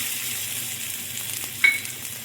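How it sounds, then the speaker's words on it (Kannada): Grated coconut fries in ghee with a faint, even sizzling hiss, and a single sharp clink rings out partway through. "ಇವಾಗ ಇದೇ ತುಪ್ಪಕ್ಕೆ ತೆಂಗಿನಕಾಯಿ ತುರಿಯನ್ನು ಹಾಕೊಳ್ತಿದ್ದೀನಿ."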